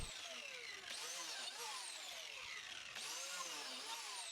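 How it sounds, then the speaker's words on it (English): Biscuit joiner cutting slots in wood, a loud whining motor that spins up and winds down in repeated pitch sweeps, three plunges close by with no talking. "This time I did use my biscuit joiner."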